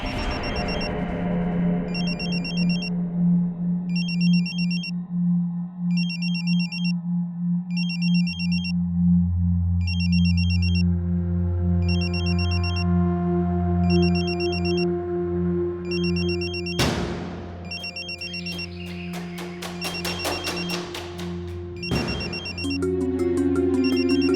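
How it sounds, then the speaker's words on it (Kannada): A mobile phone rings with a repeated electronic ringtone in short, evenly spaced beeping bursts. It plays over a loud, droning dramatic music score in a police crime drama, with sharp hits near the end. "ಫೋನ್ ರಿಂಗ್ ಆಗ್ತಾ ಇದೆ"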